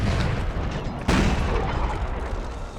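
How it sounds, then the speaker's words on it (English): A deep booming cannon blast from Napoleon: Total War, the heavy roar of a canister shot swelling sharply about a second in amid continuous loud battle noise. "that would have been a really nice canister shot, wouldn't it?"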